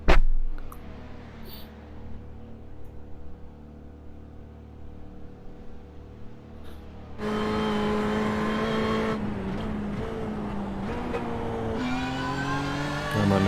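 A BMW M4 race car in iRacing at Bathurst runs quietly before the engine roars up loud and sustained, with gear changes audible as it accelerates.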